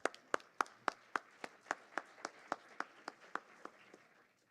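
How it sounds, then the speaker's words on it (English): Sparse, quiet clapping in a Black History Month event hall for Dr. McCormick: about fifteen distinct, evenly spaced claps with a faint patter between them, fading out toward the end. "if everybody can give Dr. McCormick a round of applause, please"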